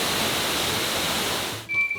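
A waterfall in the Massachusetts Berkshires roars as a steady broadband rush of falling water, then abruptly cuts to quieter ambience near the end.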